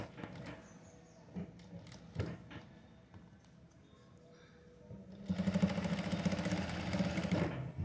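A sewing machine stitches piping onto a neckline, its steady fast mechanical whir running loud and close after a stretch of quieter handling and intermittent clicks.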